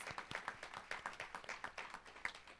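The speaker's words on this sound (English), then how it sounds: "Round of applause." An audience at a school convocation gives a round of applause, a steady patter of many hands clapping at moderate distance, fairly faint, with little talk.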